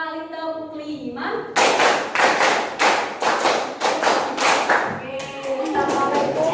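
A classroom group claps in a rhythmic pattern of sharp, evenly spaced bursts during a chemistry microteaching session, following a voice that leads the count, with speech at the start and end.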